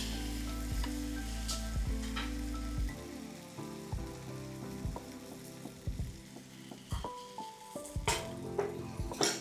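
Wheat flour flatbread with sesame seeds roasting on a small griddle, a steady sizzle and crackle running throughout with some light scraping and knocking sounds layered over it, close and fairly quiet, no talking.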